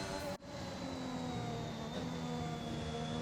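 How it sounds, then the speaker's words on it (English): F1 car engine in the F1 2021 racing game, a steady high-pitched whine holding a near-constant pitch, fairly quiet, with a brief dip early on and no talk. "You can hear the engine."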